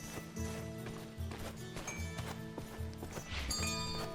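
Hooves clip-clop in quick rhythmic beats as a horse moves in the video game Sherwood Builders, a steady pattern of close taps over soft game ambience and no talk.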